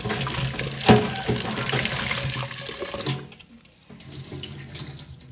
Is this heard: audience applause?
no